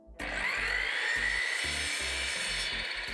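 Power saw pulled through a wooden board while a shed is converted into a hobby studio, a high whining motor starting abruptly and running steadily, with rhythmic low thumps beneath.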